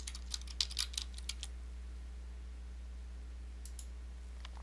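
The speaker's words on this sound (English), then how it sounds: "I'm going to type in France." Computer keyboard typing in a quiet room, a quick burst of light clicking keystrokes followed after a pause by a few more taps, close and fairly soft over a steady low hum.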